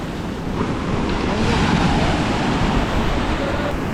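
Ocean waves wash onto a beach at high tide in Sri Lanka, a continuous, loud roar of surf with wind buffeting the microphone, no voices heard.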